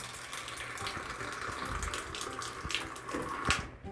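Water gushes steadily from a shower being tested in a bathroom in Cuba. It is a close, continuous hiss-and-splash flow that swells briefly near the end, with no talking.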